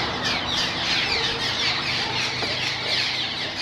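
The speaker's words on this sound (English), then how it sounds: "All these swallows." Swallows chattering and squawking around their mud nest, a dense continuous flock of high, rapid chirps and squeals close by, with no talk.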